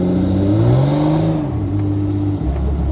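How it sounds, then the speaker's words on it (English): An 04.5-07 Cummins diesel truck engine lugs at full throttle in third gear with the converter locked, giving a loud, steady low drone that slowly climbs in pitch and then drops near the end. "Third gear locked up, foot to the floor, it's like lugging it."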